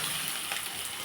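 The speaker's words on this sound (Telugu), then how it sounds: "మనం వాటర్ వేసేస్తాం." Water is poured into a pan while masala upma cooks, giving a steady, soft hissing gush with no speech.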